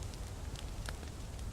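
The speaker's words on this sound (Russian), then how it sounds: "Все, костер готов." Campfire burning in the survival game Mist Survival, with a chicken and mice grilling over it: a steady low crackling rumble with faint scattered pops, close and continuous, no talk.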